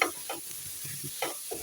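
Black pepper and salt being stirred into chicken macaroni pasta in white sauce, a few soft scraping strokes over a quiet, steady sizzle, close by and without talk.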